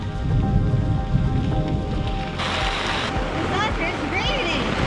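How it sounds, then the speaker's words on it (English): Rain patters steadily on a tent at a New England campsite, a dense close hiss of drops that keeps on throughout, with someone talking over it. "raining!"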